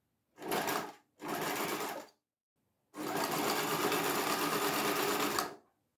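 Sewing machine stitching fabric for a homemade insect screen door for a folding caravan, in three loud bursts: two short runs close together, a pause, then one long steady run, with no talking.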